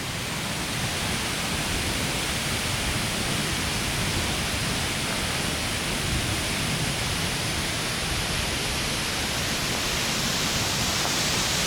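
Masare waterfall in Alleghe in the Dolomites, a constant broadband rushing roar of falling water, steady and even with no other sounds.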